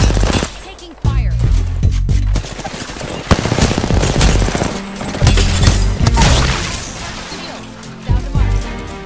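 Dense gunfire from a video game shooter, with rapid automatic bursts, sharp single shots and crashing impacts filling the whole stretch, loud and close, with voices talking over the fighting.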